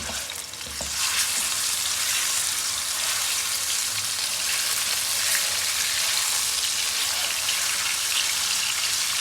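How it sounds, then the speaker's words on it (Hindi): Boneless beef, treated with vinegar, fries in hot oil in a pan, giving a loud, dense, continuous sizzle that hardly changes from start to finish, close up with no voices. "सिरका लगा के धो के इसको भून लेना।"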